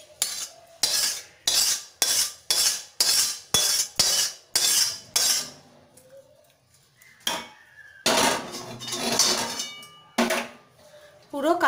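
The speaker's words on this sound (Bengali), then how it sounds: "পুরো কাচিয়ে দিয়ে দিলাম, একটু মাখিয়ে দিচ্ছি।" A spoon scrapes and clinks against a bowl in a fast, regular series of about a dozen loud strokes as fried beans are mixed into a mustard bhapa paste with yogurt and green chillies, then a longer burst of mixing.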